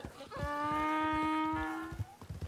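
A pack donkey in the video game Red Dead Online gives one long, loud braying call lasting about two seconds, strongly tonal and harmonic, followed by softer rustling and footstep-like thumps.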